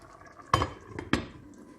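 A glass lid on a pot of rice pilaf is lifted and set back, giving two short, faint clinks about half a second apart in a quiet kitchen.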